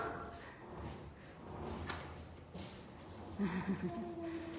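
A sliding door in a lion enclosure at a wildcat sanctuary rumbles and scrapes along its track, fairly faint, with a clunk near the end and voices talking in the background.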